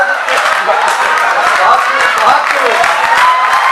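Audience applause at a youth poetry recital (kavi sammelan) held at MNIT Bhopal, steady dense clapping filling the room throughout, with a voice talking over it.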